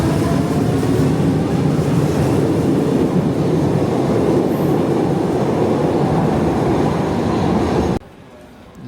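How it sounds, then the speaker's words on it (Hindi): A Lisbon metro train rumbles and rattles loudly alongside at a station, a steady roar of wheels on track that cuts off abruptly near the end. "ये मेट्रो ट्रेन है, लिस्बन की मेट्रो।"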